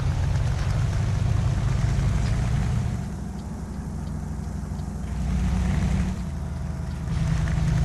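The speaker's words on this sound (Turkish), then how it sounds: "Kamyonun sesini bir dinleyin arkadaşlar" A heavy DAF truck engine in Euro Truck Simulator 2 rumbles and drones steadily at close range, its low hum dipping and swelling as the revs shift.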